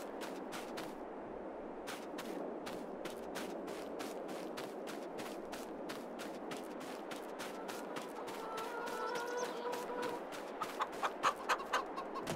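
Chickens cluck softly on a Farming Simulator 22 farm, a low steady murmur of hens punctuated by regular sharp ticking, with a few louder clucks near the end and no talk.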